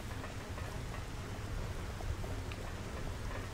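Steady rain pours in the video game Xenoblade Chronicles Definitive Edition, a thick continuous patter over a heavy low rumble, close and unbroken, with no talking.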